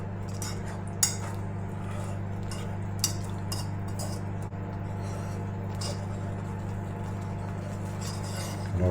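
A spoon scrapes and clinks against a pan while milk is stirred into a flour sauce, with intermittent metallic taps over a steady low background hum.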